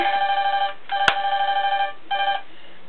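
A telephone rings in a steady electronic trill, two long bursts of ringing separated by a short pause, then a third shorter burst, loud and close with no talk over it, in a horror-film spoof scene.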